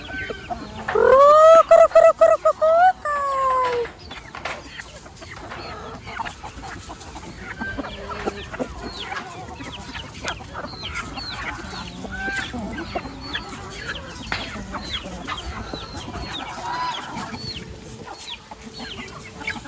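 Chickens cluck and squawk close by, with one loud rising call early on, then scattered clucks continuing under people talking in the background.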